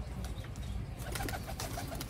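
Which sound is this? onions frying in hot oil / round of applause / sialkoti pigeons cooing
sialkoti pigeons cooing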